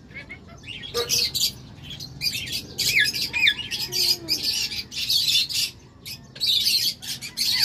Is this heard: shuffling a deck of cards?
no